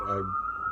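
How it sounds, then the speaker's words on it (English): An emergency vehicle siren sounds outside during nearby construction as a steady, faint wailing tone. It starts under a brief bit of speech and then continues alone. "Well, the siren is different from the construction,"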